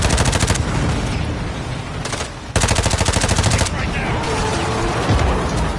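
Rapid automatic gunfire in Call of Duty: Modern Warfare 2, loud and close, in long rattling bursts broken by short pauses, with other battle sounds and voices talking over it.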